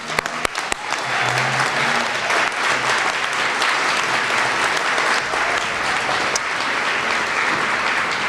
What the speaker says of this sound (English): So if our judges could please stand and accept our round of applause.